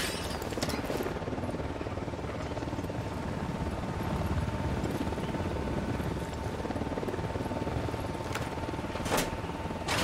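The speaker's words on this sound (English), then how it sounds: "Helicopter inbound." Helicopter approaching in the tactical shooter Ghost Recon Wildlands, a steady loud rotor drone with a sustained engine whine, constant throughout with a few sharp clicks near the end.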